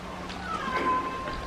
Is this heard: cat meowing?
yes